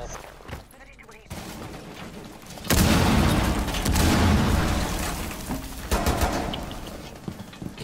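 Claymore mine explosion in the video game Rainbow Six Siege, a sudden loud blast with a booming rumble that lingers for a few seconds amid gunfire-like crackle, with players' voices around it.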